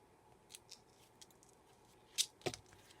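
A thin metal chain for a gluebook journal is snipped with small cutters in a quiet room, giving a couple of sharp, close clicks near the end, with faint handling noises before them.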